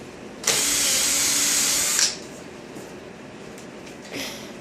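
A power drill boring a hole in a subwoofer cabinet for pop-in casters whines loudly for about a second and a half, then stops abruptly as it catches in insulation, with a brief faint motor burst shortly after.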